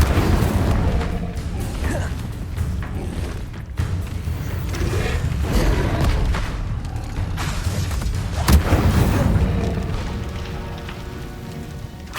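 An Incendio fire spell cast in the game Hogwarts Legacy, a loud continuous rushing, crackling roar with pops and booming bursts filling the whole stretch.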